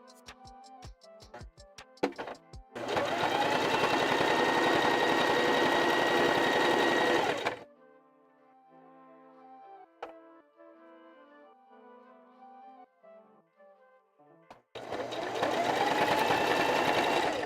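A sewing machine stitches fabric in a shop during a puppet build, with quick clicks and then two long loud runs of rapid mechanical whirring separated by a quiet pause with faint tones.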